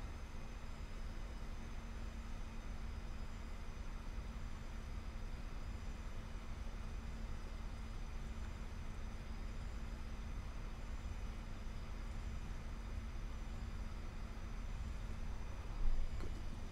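An A320neo airliner taxis at Minneapolis in the X-Plane 11 flight simulator, a steady, even engine drone with a constant tonal hum running unchanged throughout, with no talking.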